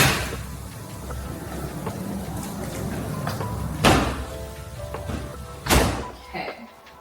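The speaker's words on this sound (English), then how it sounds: "and close up this door." An interior door in a newly built house in Conroe, Texas is swung shut, giving two distinct thuds a couple of seconds apart over faint room noise, with a lighter knock at the end.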